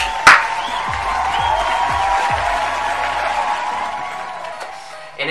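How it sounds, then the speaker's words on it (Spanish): Clapping and scattered cheers from a small audience at a freestyle rap gathering, a sustained round of applause with a sharp hit near the start, no speech over it. "Un aplauso para él."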